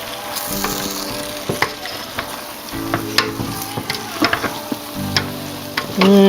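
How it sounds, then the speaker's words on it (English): Andouille sausage being stirred in a pot for gumbo, with a steady sizzle of frying and repeated scraping, clinking strokes of the spoon heard up close, no talking. "Let's get all that in there. Give that a good stir."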